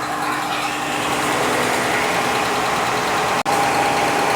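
A 2014 Dodge Grand Caravan engine idles with one ignition coil unplugged, giving a steady, moderately loud hum with a slightly uneven low pulse and a brief dropout near the end.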